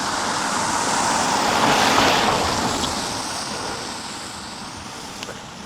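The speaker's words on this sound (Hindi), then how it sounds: "ये पहली गाड़ी मुझे नज़र आई है उस टाइम से।" A single car passing along a quiet road in a small Norwegian town at night, a steady broad whoosh that swells to a peak and then slowly fades as it moves away, with nothing else audible.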